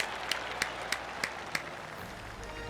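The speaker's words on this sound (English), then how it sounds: "It deserves a golf clap" A soft, polite golf clap from a small gallery in PGA TOUR 2K25 at The Open Championship, five or six sparse, evenly spaced claps over a low ambient bed, fading out.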